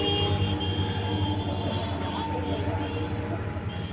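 A train rolls past below the listener, heard from above as a steady low rumble with tonal hum, continuous and moderately faint throughout.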